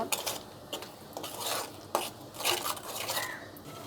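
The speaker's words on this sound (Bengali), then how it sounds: "এবার সব উপকরণগুলো আমি একসাথে কষিয়ে নিব।" Chicken being stirred in a pan with salt and two tablespoons of tomato sauce, a spoon clinking and scraping against the metal in uneven strokes, close and moderately loud, with a faint sizzle underneath.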